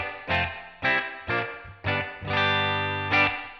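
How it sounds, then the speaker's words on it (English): An electric guitar through a Headrush Flex Prime with a Fender amp and stereo reverb plays a few separate plucked chords, then a sustained chord, each washed in a spacious reverb tail. "let's just dial in a stereo reverb"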